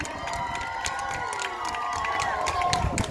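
An audience at a beatbox battle cheers, shouts and applauds loudly and continuously, with a host's voice partly heard over the crowd noise.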